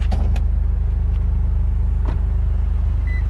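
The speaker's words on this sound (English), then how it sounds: "let me go in so you guys can hear that idle" A 2024 Toyota GR Corolla Circuit's 3-cylinder engine idles close by with an even, throbbing low rumble and faint pulsing rhythm, alone and without speech, with a few light clicks near the start.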